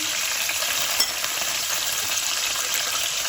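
Fennel seeds and spices roasting in hot oil for jaggery rice give a steady, close, loud sizzle with fine crackling throughout, heard alone with no talk.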